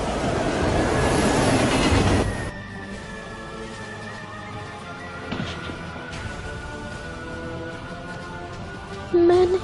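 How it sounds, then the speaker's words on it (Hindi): Rumbling rush of an approaching train in an anime episode, loud at first then dropping away to a quieter steady hum with a few faint knocks and a brief burst near the end. "ट्रेन आ रही है।"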